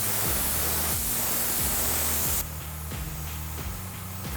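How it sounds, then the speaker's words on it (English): An airbrush sprays paint in a steady, loud hiss that shifts and softens partway through, with a low rhythmic pulsing from the compressor underneath. "I'm going to spray this kind of at an angle up."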